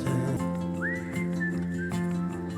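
Bright melodic whistling carries a tune with sliding notes over a steady instrumental backing.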